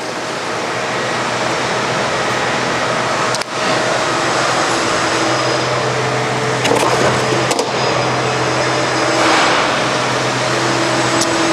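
Model 204 heavy bandsaw runs through material with a loud, steady mechanical roar and hiss, a low hum underneath, a brief dip partway through and a few sharp clicks and scrapes later on.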